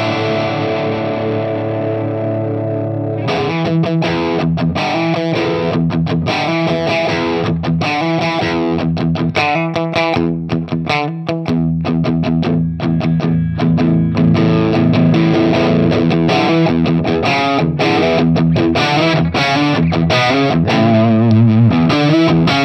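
A Gibson Les Paul played through a Marshall Shredmaster distortion pedal: thick, saturated overdriven electric guitar chords and riffs ring out loud and continuous after a brief clean opening, with no voices.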